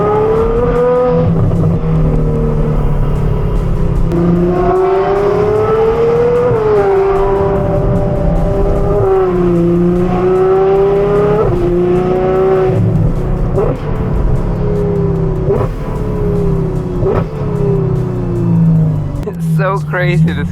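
An Acura NSX engine revs loudly through its exhaust up close, climbing and falling in repeated throttle blips with a strong droning tone. The revving runs continuously for about twenty seconds.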